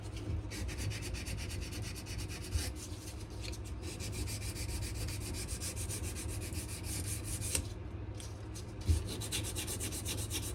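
Steady hand sanding of a knife handle clamped in a small vise, a continuous close rasping rub lasting throughout with a few brief louder scrapes and no talking.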